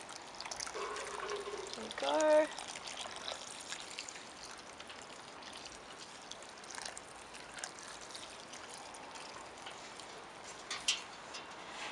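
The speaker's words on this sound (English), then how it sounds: "So I am going to water that in, give it some of this delicious food." Liquid comfrey fertiliser trickles and pours from a watering can onto garden plants, a soft continuous splash with a brief louder gush, as a voice speaks briefly.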